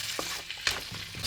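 Food cooking in a pan gives a steady sizzle with a few soft stirring scrapes and taps, close and moderately quiet, with no voices.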